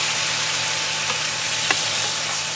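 Tofu coated with a little sauce fries in a pan, giving a continuous loud sizzle with faint crackles and a soft stir-like tap partway through, no voices present.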